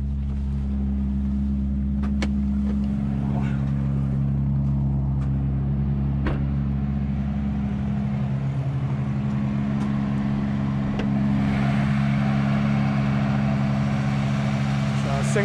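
Built car engine with a single turbo, idling with a steady low rumble and a few sharp clicks and taps, under a voice.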